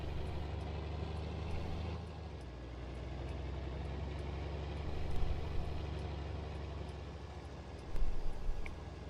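A John Deere 4240 tractor pulling wagons across a field, a steady low engine drone with a couple of brief louder surges, heard alone and moderately close.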